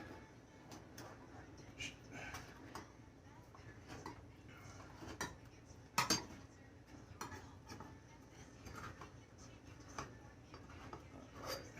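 A knife cuts a piece out of a pan of firmed-up homemade Payday candy bar: faint scraping and soft taps of metal against the pan, with one sharper clink midway, all quiet and close.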